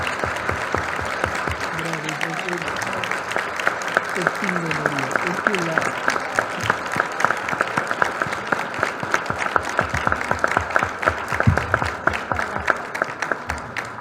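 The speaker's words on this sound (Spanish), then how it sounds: "Estos son aplausos que no acaban" Sustained, dense audience applause at a book presentation event, steady clapping throughout with a voice speaking over it at times.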